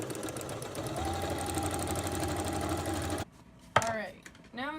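A sewing machine runs a fast, steady zigzag stitch along the sides of a pair of pants for about three seconds, then stops, and a person speaks briefly afterward.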